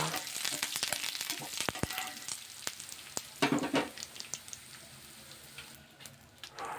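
Mustard seeds, curry leaves and dried chillies fry in hot oil for tamarind pulihora, giving a continuous sizzle scattered with sharp crackles and pops that fade somewhat toward the end.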